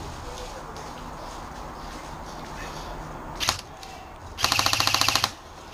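Airsoft guns fire at an outdoor skirmish site at Lane End: a short crack, then a rapid burst of about ten evenly spaced shots, close and sharp, with players talking and calling out underneath.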